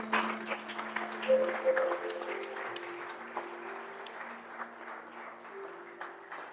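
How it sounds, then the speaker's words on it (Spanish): A church congregation claps loudly at first, then the applause eases into a softer, steady patter over sustained musical tones in the background. "denle fuerte ese aplauso al Señor"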